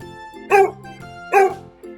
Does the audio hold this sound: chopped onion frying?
no